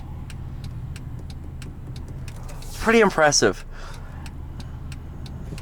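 A 2010 Mercedes-Benz GLK350 with a 3.5 V6 cruises along with a steady, low engine and road drone inside the cabin, while someone talks briefly over it.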